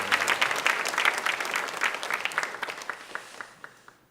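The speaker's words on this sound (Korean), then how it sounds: "모든 분들에게 격려의 박수하겠습니다" Church congregation at a Thanksgiving service applauding the choir and conductor, clapping loudly at first and then thinning out to scattered claps before stopping.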